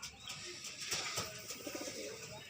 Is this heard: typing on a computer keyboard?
no